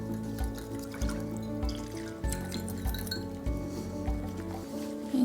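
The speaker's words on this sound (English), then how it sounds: "Then I'm gonna add rice milk in here." Rice milk pours into a bowl of flour for a lumpia wrapper batter, giving a soft liquid trickle with light clinks and squishy mixing sounds close by.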